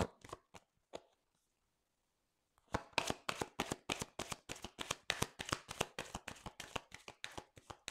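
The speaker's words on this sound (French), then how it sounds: "on va tirer 7 cartes avec le petit Lenormand" Petit Lenormand cards are shuffled in a few soft riffles, a short pause, then a long fast run of crisp, close card flicks in steady rhythm with no talking.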